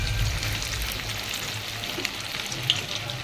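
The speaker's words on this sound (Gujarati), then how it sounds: "આપણું તેલ આવીને રેડી થઈ ગયું છે. હવે આપણે પેટીસ મૂકીએ." Potato patties fry in oil in a pan, a close, continuous crackling sizzle with small pops, fairly loud and steady throughout.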